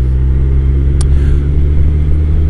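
Steady low engine drone of a motorbike being ridden near Belstead, loud and continuous with a deep rumbling hum and one brief click partway through, no talking.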